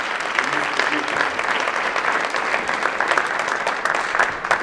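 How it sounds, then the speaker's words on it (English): A steady round of audience applause for Mr. Dickens at a Black History Month celebration, dense continuous clapping filling the room without letting up. "Join me in another well-deserved round of applause for Mr. Dickens."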